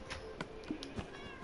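A cat in the video game Minecraft meows a few times in quick, short calls, fairly quiet, with no talking over them.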